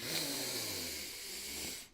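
A single long, deep breath drawn in through the mouth, heard close and breathy with a soft wheezing hiss that lasts about two seconds before cutting off.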